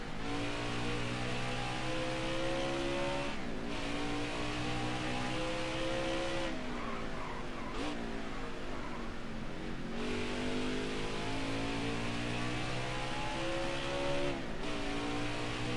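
An Xfinity Series race car laps Road America, its engine note climbing through the gears and then dropping sharply under braking and downshifts several times, loud and continuous with no voices.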